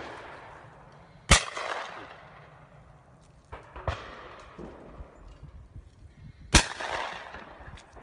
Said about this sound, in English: So from actual gunfire